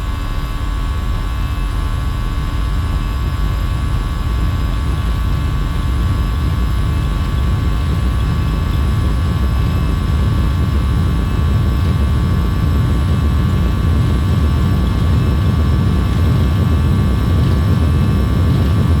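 JARDesign Airbus A320 engines spooling to takeoff power in a flight simulator on the runway, a loud steady roar with a constant hum that holds for the whole span with no talk.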